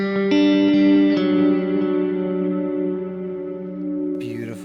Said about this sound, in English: dark matter reverb.